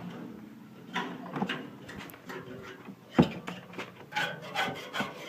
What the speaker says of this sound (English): I did a lot of scraping on this stuff, and still got a lot of scraping left.